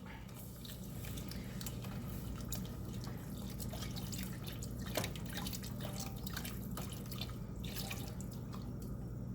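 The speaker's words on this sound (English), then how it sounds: "I think we can go ahead and add the milk" Milk is poured into a crockpot of chicken and wild rice, making a steady, soft liquid splashing and trickling that runs close and continuous, with scattered small drips.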